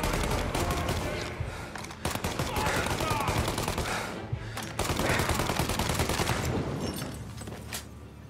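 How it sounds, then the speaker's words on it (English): Dense Tommy gun fire in the video game Mafia: Definitive Edition, with rapid overlapping bursts and volleys crackling almost nonstop, loud and close, with brief lulls between barrages. "They're using Tommy guns and everything else."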